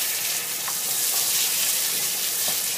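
Pork ribs stir-fry in a pan, giving a steady, close hiss of sizzling fat with faint scraping stirs now and then.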